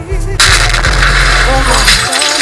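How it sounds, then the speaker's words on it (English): A sudden loud blast bursts in after a short low rumble and holds as a dense, roaring crackle for about two seconds before cutting off. "Explode."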